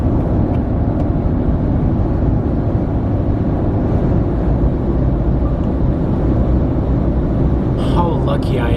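A cheap car drives through pine-covered hills near Bilbao, its steady road and engine rumble filling the whole stretch at a constant level, with a brief rustle near the end.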